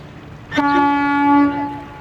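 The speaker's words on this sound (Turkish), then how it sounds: "Çok güzelmiş korna." A single horn sounds loudly, a sustained tonal blast lasting about a second before fading, with a quiet background.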